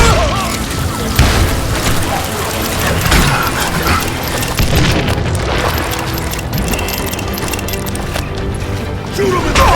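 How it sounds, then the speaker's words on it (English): Heavy, booming dynamite blasts from Call of Juarez Gunslinger ring out amid a busy gunfight, with a character's voice and constant crashing action running throughout the loud, dense mix. "Can't hide from dynamite!"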